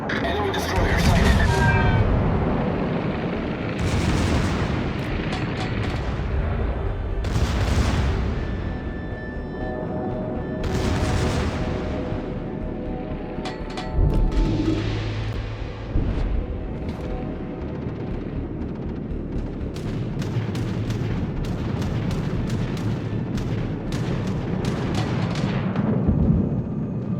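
Heavy naval gunfire from the battleship Massachusetts in World of Warships, with repeated deep booming salvos at irregular intervals under radio-style voice callouts and game background noise.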